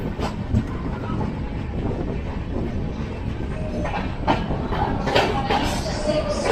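Geetanjali Express running, a steady dense rumble of rolling wheels and carriage noise with sharper clacks and metallic rattles toward the end, heard from on board.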